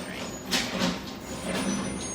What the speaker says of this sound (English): Alright, garbage truck left